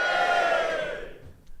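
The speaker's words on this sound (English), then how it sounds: "Give me a cheer if that's exciting." A live comedy audience at the Edinburgh Fringe Festival's Ace Dome cheering and whooping together in a short, loud burst that quickly dies away.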